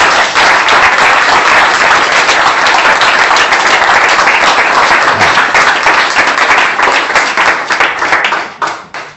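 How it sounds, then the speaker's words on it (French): A church congregation applauds during a French-language sermon, loud dense clapping from many hands that holds steady for several seconds before fading out toward the end. "Applaudissons pour notre Seigneur."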